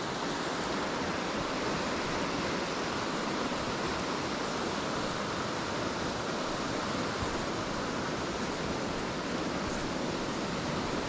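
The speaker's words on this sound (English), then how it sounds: "you've got some nice, fast moving water here now." Fast-moving water on the River Wansbeck rushes steadily, a dense, broad, unbroken roar that stays loud and even throughout with no voices.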